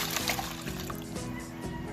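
Water poured onto soil in a dirty kitchen sink, a steady close trickle and splash running throughout with a faint hum beneath.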